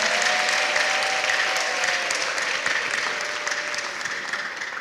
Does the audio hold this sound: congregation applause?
yes